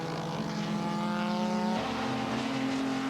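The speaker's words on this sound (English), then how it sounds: "Quattlebaum again, demonstrating the road holding there and staying ahead of the rear-engine Ferrari" Sports racing cars, including a rear-engine Ferrari and a small Morgan, roar past on a race track, a steady loud engine drone with a pitch drop partway through as one car passes.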